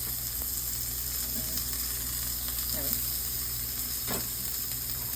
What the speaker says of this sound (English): Use our Pampered Chef tongs. saute this up a little bit.